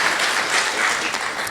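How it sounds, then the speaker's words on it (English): Dense audience applause at a Māori governance summit, sustained and fairly loud, a continuous wash of many hands clapping. "So let's give her a round of applause."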